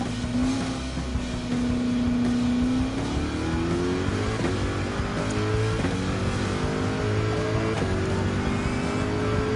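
A Corvette Le Mans-style race car engine in Gran Turismo 7 roars steadily and loud, its pitch climbing through the gears in a long sustained drone with shifts, heard alone without talk.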